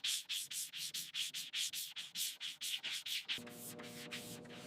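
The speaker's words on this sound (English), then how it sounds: "Hand sanding is the only way" Hand sanding on the bodywork of a 1975 Mack truck under restoration, a dozen or more steady back-and-forth rasping strokes in an even rhythm, close and clear, giving way at the end to a faint lingering hum.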